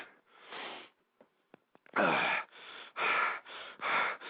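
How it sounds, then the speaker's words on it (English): Heavy, loud breathing from a conservative radio host, close to the microphone, in a run of forceful gasping breaths with short pauses between them and no speech. "I know that I'm breathing hard here, folks."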